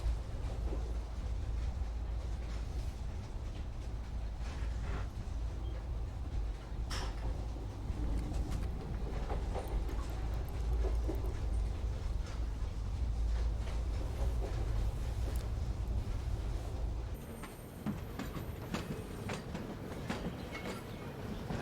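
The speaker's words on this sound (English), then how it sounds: "we're taking the tram" Tram in Syberia: The World Before rolling along rails, a continuous low rumble with rhythmic clacks and metallic rattles over about twenty seconds, steady and close, shifting to a lighter, thinner ride near the end; no talking.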